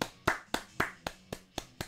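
A single person claps hands in an even, steady rhythm, eight crisp close claps spaced about a quarter second apart, with no crowd or voices around.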